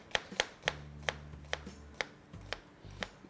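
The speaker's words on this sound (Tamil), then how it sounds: "இதுக்கு பேர் ஸ்லைசிங் தி ஆனியன்" A knife slicing through an onion on a cutting board, roughly eight crisp chops at a steady, unhurried rhythm, close and fairly quiet, with a low background hum.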